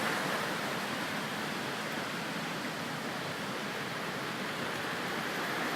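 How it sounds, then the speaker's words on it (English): Storm surf surges onto Chesterman Beach in Tofino during a March storm, a continuous broad roar of crashing, churning water that stays loud and steady throughout with no voices. "try to give you an impression of the force of this water coming up"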